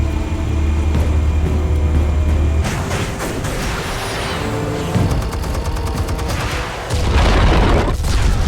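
Explosives detonating in Batman: The Telltale Series, a loud sustained barrage of deep booms and crackling blasts with rumbling low end, dense and continuous, swelling again near the end.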